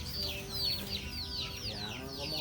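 Many chickens on a farm cluck and chatter continuously in a dense flock, with a faint rooster-like call mixed in, steady and fairly loud, with a steady background hum.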